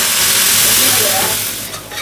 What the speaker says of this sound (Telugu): సో చిన్న మంట మీద ఫ్రై చేయండి